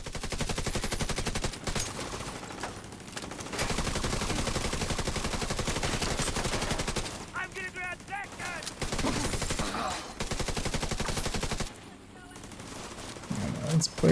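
Sustained rapid automatic gunfire in a video game, loud and continuous in long bursts aimed at turrets, pausing briefly between volleys, with someone talking in places.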